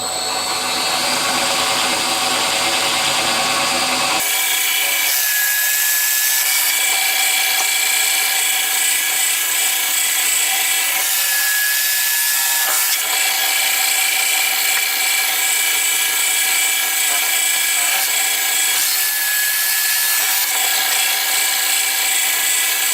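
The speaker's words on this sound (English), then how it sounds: "So I'm going to bore the holes at the extremities, and then I'm just going to cut that out probably with a jigsaw." Power tool boring holes and a jigsaw cutting through a clock case in a workshop, a continuous loud high-pitched whine and buzz lasting the whole stretch, shifting slightly in tone, with no talking.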